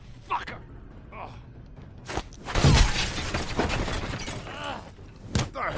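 Glass shatters loudly as a character is shoved into it during a fight in The Wolf Among Us video game, a sharp crash followed by scattering shards, with shouting voices before and after.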